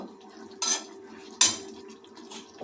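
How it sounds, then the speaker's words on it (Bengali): A utensil scrapes and clatters twice against a pan while ridge gourd and mixed vegetables are turned over, close and fairly quiet, with a faint background hum. "আরেকবার নাড়িয়ে নেব"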